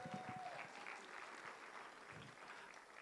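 Audience at an International Day of the Boy Child commemoration applauding a deputy minister: a continuous round of clapping from a crowded hall, heard faint and distant throughout.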